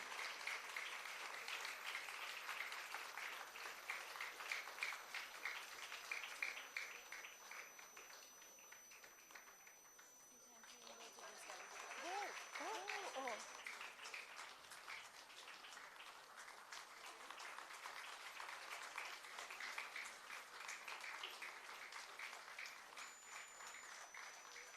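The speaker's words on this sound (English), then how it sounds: "Can we please keep clapping?" Sustained applause from an audience closing a Kathak rangapravesh dance recital, steady dense clapping that dips briefly midway then swells again and carries on at moderate level, with no voices over it.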